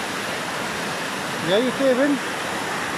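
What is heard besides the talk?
waterfall, water rushing down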